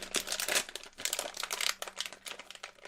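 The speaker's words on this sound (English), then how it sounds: "I can't open the bag." A plastic bag of shortbread cookies is handled up close in quick, uneven bursts of sharp crinkling and rustling, with no pauses for a full three seconds.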